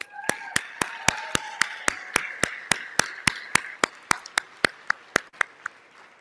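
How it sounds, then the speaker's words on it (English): Gala audience clapping in unison, about twenty crisp, evenly spaced claps in a steady rhythm, fairly close and distinct, with a faint sustained tone underneath. "Let's give them a loud round of applause."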